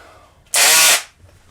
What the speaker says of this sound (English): Cousin Weak Arm, tighten the bit here.